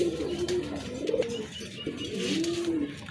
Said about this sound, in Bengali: আরেক জোড়া কবুতর, কোয়ালিটি ফুল কবুতর।